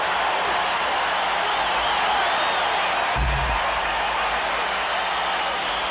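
A large baseball crowd at the 1985 World Series roars and cheers steadily throughout, a dense, sustained swell of stadium noise with a brief louder burst midway.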